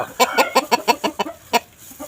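A sick chicken with a cold and swollen face clucks in a quick series of about ten short, loud, close clucks, evenly spaced with a brief pause near the end.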